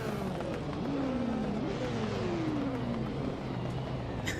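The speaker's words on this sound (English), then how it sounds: "Engines firing, ready to go." Race car engines revving on the starting grid in the Assetto Corsa racing game, GT500 cars at Suzuka: a continuous dense engine roar with rising and falling revs throughout, steady and loud with no voices.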